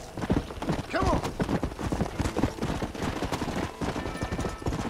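Horse hooves clip-clop steadily in the western video game Red Dead Redemption, close and rhythmic, with a voice talking over them and a brief whinny-like sound near the start.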